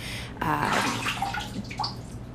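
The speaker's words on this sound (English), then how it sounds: "we're going to rinse the bowl out" Water splashes and runs as a shaving bowl is rinsed out in a bathtub, a close, continuous watery rush with small drips and gurgles.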